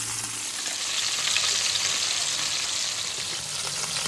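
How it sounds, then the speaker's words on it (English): Chicken pieces, skin side already seared, sizzle steadily in a hot skillet after being flipped, a loud, even, continuous frying hiss with faint crackles throughout and no talking. "I went ahead and flipped it over and seared the other side."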